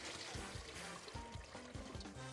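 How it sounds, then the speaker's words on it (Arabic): Water pours steadily off soaked freekeh as it drains through a strainer, a continuous loud splashing trickle with faint gurgles, no voices. "بعد ما اشطفه اصفيه من الميه"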